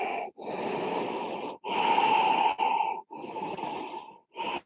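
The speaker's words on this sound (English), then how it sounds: "Ujjayi sounding breath in and out." Ujjayi yoga breathing with a throaty, ocean-like rasp: a run of long, close inhales and exhales separated by brief silent pauses, each breath a loud, even hiss with no talking.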